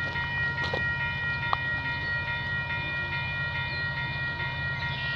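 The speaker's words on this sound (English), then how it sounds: "What train is this gonna be, eh?" A CN/CP freight train passes in Milton, Ontario, with a steady low rumble and the drone of wheels and cars on the rail. The sound is even and continuous, with faint tonal notes above it.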